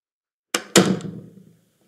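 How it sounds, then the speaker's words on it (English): A door opening in a Unity-built, Resident Evil-style survival horror game, heard as two quick knocks, a sharp click and then a louder thud with a short rumbling decay, alone and close. "let's just check that this works so we can go through this door"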